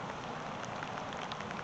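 Outdoor rainfall as a brief, steady hiss of drops striking surfaces, even and continuous with light patter on top.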